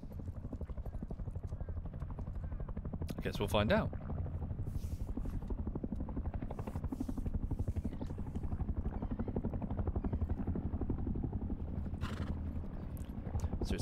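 An attack helicopter in the Rust video game thrums with a steady, rapid rotor pulse throughout, alongside horse hoofbeats and a brief whinny, while someone talks briefly.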